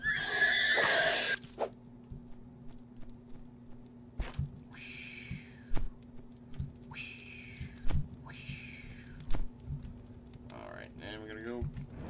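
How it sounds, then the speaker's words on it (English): Critters in the Starbound video game let out horse-like neighs and whinnies, a burst at the start followed by several shorter calls, mixed with clicky game effects and soft footsteps. "Anyone want to tell me why all the critters here sound like horses?"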